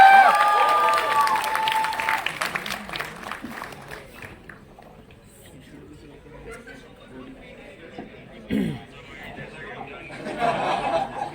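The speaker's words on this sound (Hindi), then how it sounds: "साहब के लिए जोरदार ताली" Audience applause at a film trailer launch event, clapping and cheering from a crowd that fades down into chatter and light laughter, with people talking over it.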